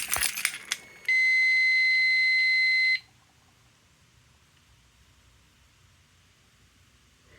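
A fire alarm system under test emits a single sustained electronic tone lasting about two seconds after some brief clatter, then falls to near silence.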